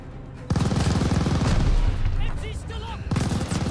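Rapid machine gun bursts ring out in the Call of Duty: Vanguard shooter, loud close rattling fire that stops briefly midway before resuming, with a player talking over the action.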